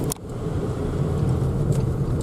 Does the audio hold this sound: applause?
no